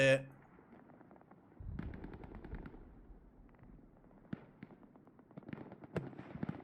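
Rocket explosions and gunfire in the World War II shooter Hell Let Loose, a heavy blast followed by scattered sharp shots and bursts of varying distance, with a voice talking over them.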